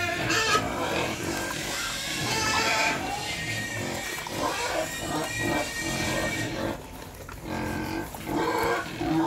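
Wild boars grunt and squeal in a noisy, crowded chorus on a farm, continuous and close, with no talking.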